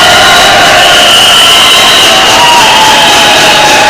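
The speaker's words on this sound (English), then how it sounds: "A round of applause," A debate audience applauds and cheers at a presidential debate, a loud, continuous roar of crowd noise that holds steady throughout.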